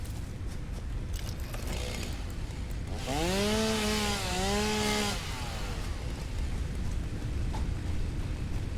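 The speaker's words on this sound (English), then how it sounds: "I'm gonna chainsaw for a couple minutes, get some trees down." A chainsaw cutting down trees in the video game Satisfactory, a steady buzzing whine that rises into a louder revving cut for about two seconds, then settles back to an idle drone under ambient game sound.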